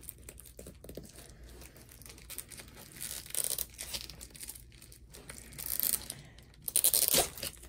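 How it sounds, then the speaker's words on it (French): A diamond painting canvas, 56 by 74 cm, being unwrapped by hand, with packaging torn open using fingernails: close crinkling and rustling of plastic, with louder tearing bursts building toward the end. "je vais déballer la toile avec vous"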